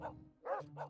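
A dog barks three times in a video game, short close yaps spaced evenly over a steady low hum.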